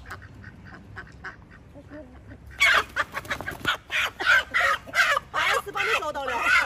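Farm hens and a rooster clucking, quiet and sparse at first, then loud, agitated squawks and clucks in close repeated bursts.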